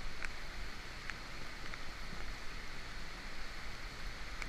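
Steady rain falls during a fly-fishing outing on a New Jersey river, a constant even hiss of drops with a few faint splashes.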